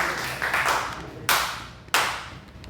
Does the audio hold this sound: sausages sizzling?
no